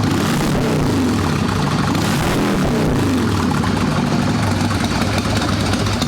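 An Evolution-engine Sportster chopper motorcycle idles after the choke is switched off, with a loud, steady, close rumble that holds an even low throb throughout, and no speech.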